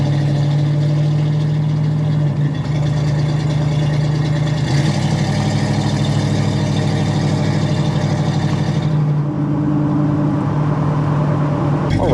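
A 1965 Chevrolet Nova with its original factory 283 V8 and two-speed Powerglide automatic idles steadily, a loud low burbling rumble with a constant lope and slight shifts in pitch, close up and without talk.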